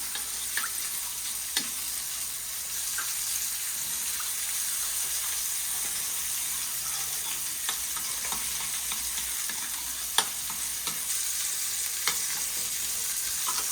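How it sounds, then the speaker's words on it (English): Boneless beef chuck stew with tomato paste and thyme sizzling in a pan while being stirred, a constant close frying hiss with occasional clicks and scrapes of the spoon, no talking. "Mix this all together, mix it all up."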